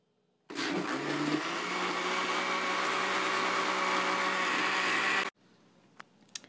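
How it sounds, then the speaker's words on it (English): Countertop blender whirring at a steady high roar for about five seconds while blending frozen treat mix, then cutting off abruptly, followed by a few faint clicks. "Make sure you put your lid on your blender, and I'm going to plug mine in, and we're just going to blend it."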